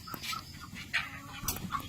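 Chickens on a poultry farm cluck and squawk in scattered short bursts, fairly close but soft, over a quiet barn background with no one talking.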